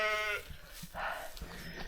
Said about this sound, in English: I had to stop to look at the sheep.